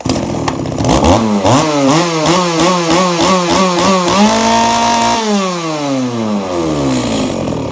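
An Echo V3800 chainsaw engine revs up in rapid pulsing bursts, then holds a high whine before winding back down, loud and close.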